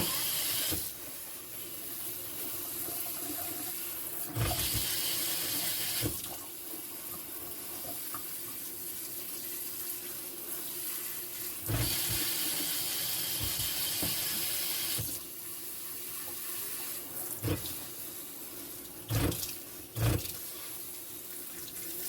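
Water runs steadily into a houseplant's pot in a soft, continuous hissing stream, broken by short pauses and a few brief clatters and clicks.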